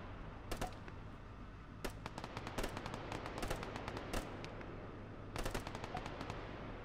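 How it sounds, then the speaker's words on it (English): Rapid gunfire bursts from a Tom Clancy video game, sharp cracks clustered in quick volleys and scattered single shots over a steady low rumble, fairly distant and moderately loud with no talking. "I know where he's shooting from as well."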